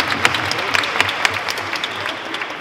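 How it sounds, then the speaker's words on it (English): Conference crowd at the Medsin global health gathering breaks into sustained applause welcoming back returning attendees, full and steady clapping from many hands with a few sharper claps standing out and faint voices beneath. "huge round of applause, welcome back to Medsin"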